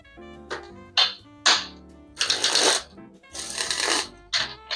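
Out of Hand Tarot cards being shuffled in several brisk, crisp riffling bursts, close and clear, with short pauses between them.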